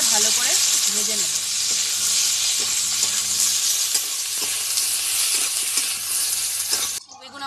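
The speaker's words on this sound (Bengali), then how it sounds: "এবারে আমি আলু বেগুনটাকে ভালো করে ভেজে নেব।" Potato and eggplant pieces, seasoned with salt and turmeric, fry in a pan with a loud, continuous crackling sizzle that ends abruptly.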